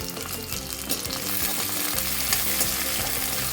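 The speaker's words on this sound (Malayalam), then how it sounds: "ഞാനപ്പോൾ ഈ ഉള്ളി പെട്ടെന്ന് വഴന്ന് കിട്ടാൻ വേണ്ടിയിട്ട് ജസ്റ്റ് ഒന്ന് അടച്ചു വെക്കുന്നുണ്ട്" Onions sautéing in a covered pan on a gas stove, a steady close sizzle and crackle that holds evenly throughout with no voices.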